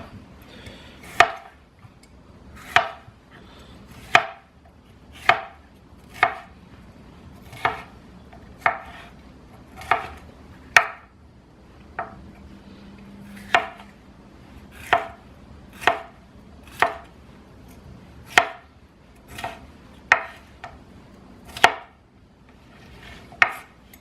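Knife strokes chopping red pepper on an acacia wood cutting board, about sixteen crisp, evenly spaced chops close by with no talking.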